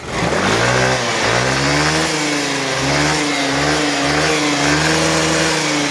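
A Yamaha scooter engine, from a Tricity or N-Max with a running fault, revs hard and holds at its rev limiter, the pitch climbing and bouncing in repeated surges, loud and close.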